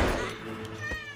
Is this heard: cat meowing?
yes